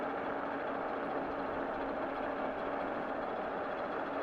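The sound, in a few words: Evercross EK6 ebike motor on throttle climbing hill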